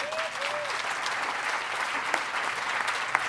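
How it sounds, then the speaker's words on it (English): Sustained audience applause at a storytelling event at the Edinburgh International Book Festival, dense steady clapping from a large crowd throughout, fairly close and even in loudness. "You could clap now if you wanted."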